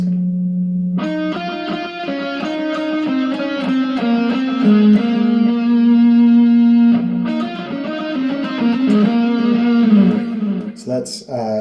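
Electric guitar run through effects plays a riff, a distorted sustained droning line with repeated picked notes, loud and continuous before ending in a few scratchy strums.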